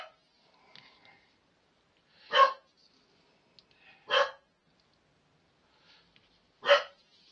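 A dog barks three times, single sharp woofs spaced a couple of seconds apart in a quiet room, with faint background sounds between.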